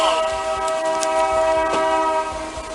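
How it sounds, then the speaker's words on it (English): A train rolls past in a video game while a loud horn blares with steady sustained tones over the rumble and clatter of the railcars, fairly close and continuous, with no speech. "There's literally a train heist going on in the background."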